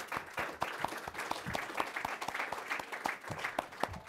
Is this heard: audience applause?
yes